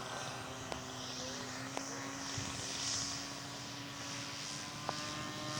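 A scale model propeller aircraft on landing approach drones steadily at a distance, its engine hum rising and falling slightly, with a few faint clicks over a quiet outdoor background.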